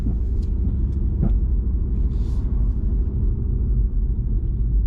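A 2020 Audi RS3 pulls away gently from a stop in drive, its low engine rumble steady and close, with faint road noise and no talking.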